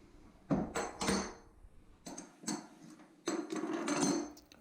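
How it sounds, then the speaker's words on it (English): Metal clanks and scrapes of an adjustable wrench working the nuts on toilet bolts at the base of a toilet in a half bath, coming as several separate close knocks and rattles spread over a few seconds. "I'm going to use my adjustable wrench to loosen up the nuts"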